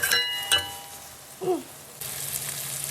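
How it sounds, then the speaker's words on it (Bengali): Onion sizzling in a pan, a soft frying hiss with a few clinks of utensils against the pan near the start, then a steadier crackle toward the end. "অনিয়নটা ভালো করে ফ্রাই করে নেবো"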